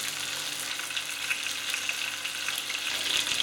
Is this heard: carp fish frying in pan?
yes